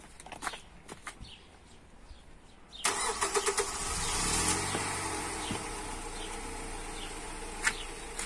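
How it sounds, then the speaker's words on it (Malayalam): A car engine is started after an oil change and filter replacement. A few clicks and cranking come first, then the engine catches with a loud surge and settles into a steady idle. "അപ്പൊ നമുക്ക് ഇനി വണ്ടി സ്റ്റാർട്ട് ചെയ്ത് ഫിൽട്ടർ ലീക്ക് ഉണ്ടോ ശ്രദ്ധിക്കാം."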